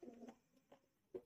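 Soft, low pigeon coos repeat in a few short bursts, faint and close, with quiet pauses between them.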